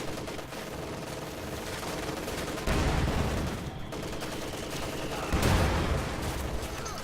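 Machine gun fire in a multiplayer World War II strategy video game, with sustained rattling bursts amid other battle noise and two heavier bangs that stay steady and fairly loud throughout.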